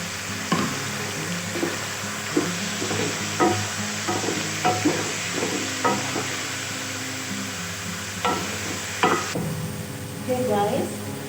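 Chicken pieces added to softened onions in a pot set up a steady sizzle, broken by repeated scraping stirs and clanks of a spoon, close and fairly loud, with no one talking.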